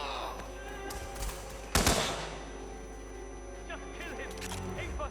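Gunfire in the video game Hitman 2: one loud sharp burst stands out partway through, with fainter shots around it beneath shouting voices.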